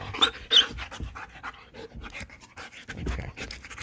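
A young dog pants rapidly and steadily during play biting, close and fairly loud, with small scuffling sounds and no talking.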